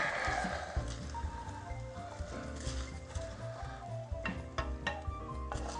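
Ground meat sizzles and crackles in a big pot of Italian chili on the stovetop, a steady, close frying hiss with a few sharper pops and stirring clatter near the end.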